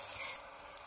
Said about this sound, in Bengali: আমি একটু আলুগুলোকে ম্যাশ করে নিচ্ছি।